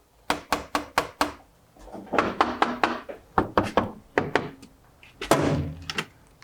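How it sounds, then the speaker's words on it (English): Knuckles rapping on the front door of a converted school bus, several quick bursts of three or four solid knocks repeated in steady groups, close and clear with no talking. "If someone's knocking on the door."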